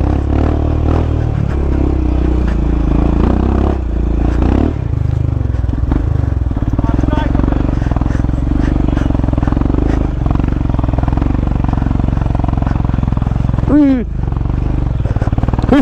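A motorbike rides along with a continuous loud engine drone and road rumble, some clatter and a brief rising whine near the end, with a voice talking over it.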